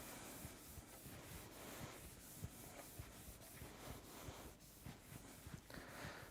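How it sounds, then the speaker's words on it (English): A cloth rubs Swix glide wax cleaner along a ski base in steady back-and-forth strokes, a soft, close, continuous scrubbing with no talking. "Just wipe down the ski."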